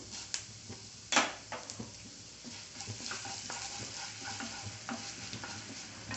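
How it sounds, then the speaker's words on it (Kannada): Urad dal frying on a low flame, a steady soft sizzle with a few sharp crackles and scraping stirs, close and continuous with no talk. "ಉದ್ದಿನಬೇಳೆ ಹಾಕ್ಕೊಂಡು ಸ್ವಲ್ಪ ಫ್ರೈ ಮಾಡಿ ಲೋ ಫ್ಲೇಮಲ್ಲಿ ಇಟ್ಕೊಳ್ಳಿ"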